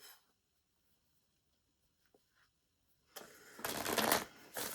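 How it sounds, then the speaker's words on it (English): Near silence for a few seconds, then a close burst of riffling and shuffling tarot cards, loud and rapid toward the end. "Let me just shuffle these cards, okay?"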